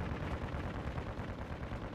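Rapid, dense gunfire in a shooter video game, a continuous rumbling barrage of shots with no pauses, moderately loud and heard alone.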